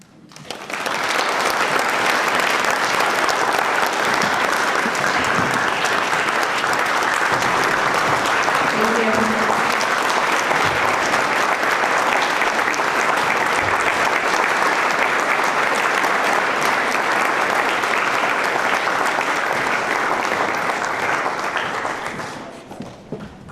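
A long, loud wave of applause for educators at a recognition ceremony. Dense clapping rises quickly, holds for about twenty seconds and then fades, with faint voices in the crowd.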